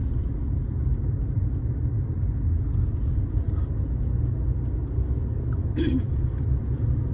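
A car climbing a gentle highway incline in third gear gives a steady low engine and road rumble, constant and unbroken throughout, heard from inside the cabin with a faint brief knock near the end.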